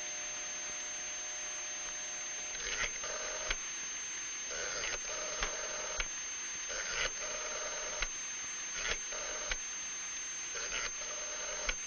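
A 1960s landline telephone call is being placed: short electronic beeps and clicks repeat about once a second over a steady, hissy line noise, with no voices.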